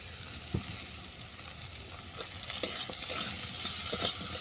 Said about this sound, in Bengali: আলু বেগুনটাকে ভালো করে কষিয়ে নেব।